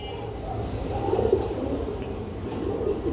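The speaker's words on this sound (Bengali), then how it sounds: "খুবই ডাকাডাকি করতেছে, এখানে দেখতে পাচ্ছি আরেক জোড়া কবুতর রয়েছে।" Pigeons cooing at a market stall selling breeding pairs, low rolling coos overlapping closely against a busy, murmuring background.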